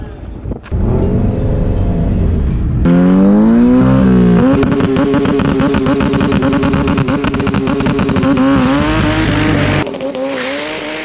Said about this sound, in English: going against the 911 Turbo S from Tech. Should be a sweet race.